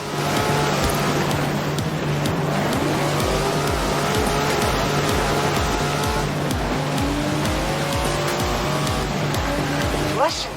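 A Datsun driven through the streets of Edinburgh in the racing game Forza Horizon 4 revs hard, its engine a loud, continuous rising and falling drone with tyre noise underneath and brief voices over the top.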